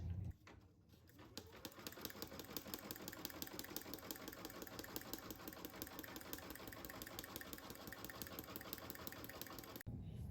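An embroidery machine runs a placement stitch through fabric on tearaway stabilizer, giving a fast, even mechanical chatter that goes on steadily for several seconds after a short pause at the start and stops abruptly at the end.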